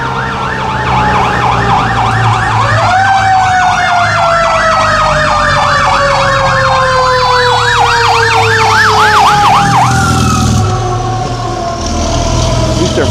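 A fire truck siren passing close by at night in Freehold, New Jersey, loud and wailing in rapid up-and-down sweeps over a rumbling engine, then cutting off into a softer tone as it moves on.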